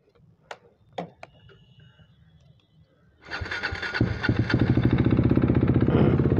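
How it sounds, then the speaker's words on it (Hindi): A motorcycle engine catches after a few ticking clicks and then idles loudly and steadily up close, its rapid even putter continuing without talk. "देख ही सकते हो बाइक इधर स्टार्ट हुआ, रुक के रखा है।"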